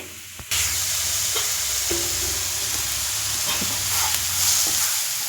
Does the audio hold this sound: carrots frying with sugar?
yes